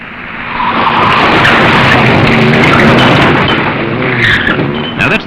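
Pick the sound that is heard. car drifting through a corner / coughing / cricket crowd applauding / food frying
car drifting through a corner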